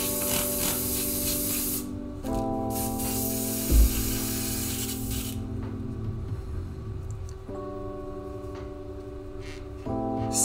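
An airbrush being emptied and rinsed between paint colours sprays in hissing bursts, loud near the start then fading, over a steady mechanical hum from the compressor with clear tonal lines.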